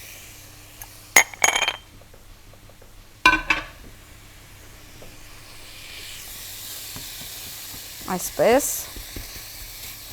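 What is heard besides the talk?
minced meat frying in a pan for nachos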